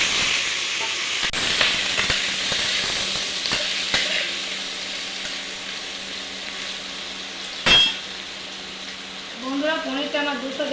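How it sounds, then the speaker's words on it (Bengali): Paneer pieces fry in white oil with a steady, loud sizzle, broken by a few scraping stirs and a sharp clink, and a voice speaks briefly near the end. "সাদা তেলে ভেজে নিচ্ছি"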